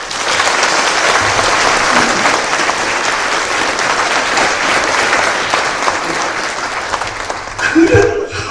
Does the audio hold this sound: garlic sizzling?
no